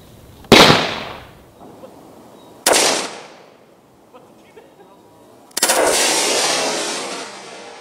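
Loud pump-action shotgun blasts fire arrows outdoors: a sharp report, a second one about two seconds later, a softer mechanical click, then a third heavy blast with a long trailing roar.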